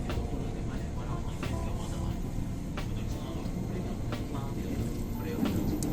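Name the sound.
CommuterLine train running on the track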